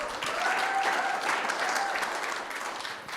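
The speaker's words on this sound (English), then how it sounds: "just a round of applause for our pastors, Pastors Brad and Jacqui." A church audience gives the pastors a round of applause, a dense, steady wash of many hands clapping that fades slightly toward the end.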